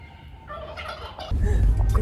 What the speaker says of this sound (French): Malade ce dindon.